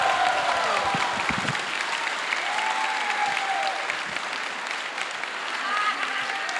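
An audience at the 2014 Unite I.E. Con convention applauds, a sustained wash of clapping with a few raised voices and whoops rising over it.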